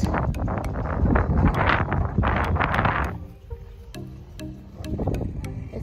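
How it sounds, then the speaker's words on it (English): Breeze blowing across an outdoor golf course, a steady rush of wind noise buffeting the microphone, strongest in the first half and easing slightly later, with faint rustling and a few brief clicks. "It's so nice and breezy."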